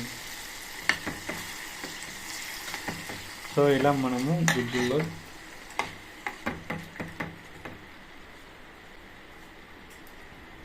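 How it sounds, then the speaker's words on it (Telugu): Hot tempering poured into tamarind pulp for tamarind rice sizzles and bubbles in a short loud burst, followed by sharp ladle taps against the pot while someone speaks. "చింతపండు గుడ్డుల్లో పోపు వేసుకున్న తర్వాత బుజబుజ వస్తుంది"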